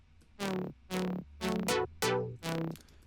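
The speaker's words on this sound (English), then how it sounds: "So these chords are just ES2 simple saw wave filtered chords which sound like this." An ES2 synth plays simple filtered saw-wave chords in five short stabs with a bright attack that quickly darkens. The rhythmic, groovy pattern is heard alone at moderate volume.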